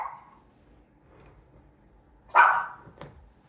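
A dog indoors barks at neighbors heard outside, one sharp, loud bark near the microphone followed by a softer short yip, with quiet room tone around them.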